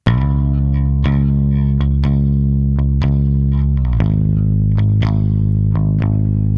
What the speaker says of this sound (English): Now let's add some saturation and some distortion, and then some of those drive section bands here.